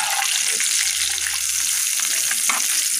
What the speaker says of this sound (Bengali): ডিমগুলোকে লাল লাল করে ভেজে নেব, যাতে সুন্দর একটা কালার আছে ডিমের মধ্যে।